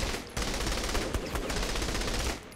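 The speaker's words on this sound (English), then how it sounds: "Someone's shooting at me." Rapid automatic gunfire in the video game Saints Row The Third, a dense continuous burst of shots lasting a couple of seconds, loud and close.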